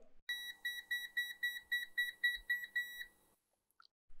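A Pancontrol PAN Minimeter non-contact voltage tester beeps in a rapid, even series of about a dozen high electronic chirps, clean and close, before falling silent.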